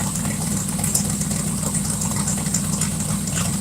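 A rough-running twin-turbo Chevrolet Nova engine idles close by, a loud, steady rumble that holds an even level throughout with no voices over it.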